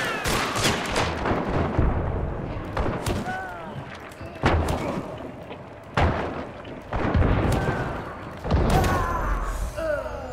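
Chain pistol shots in Hunt: Showdown, a series of loud, booming reports spaced a second or two apart, each with a long echoing tail, while voices talk in between.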